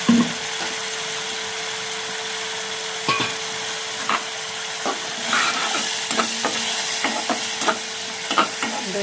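Onion paste frying in a pan for a doi katla (yogurt rohu fish) dish while being stirred, a steady close sizzle broken by repeated scraping and clacking stir strokes, no voices.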